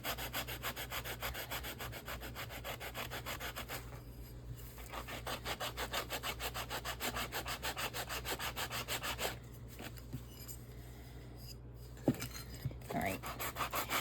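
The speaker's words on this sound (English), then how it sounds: "let me finish sanding this and I'll be back" Rhythmic back-and-forth sanding of a ceramic resin book cover, a close, steady rasping scrub with a couple of brief pauses and a light knock near the end.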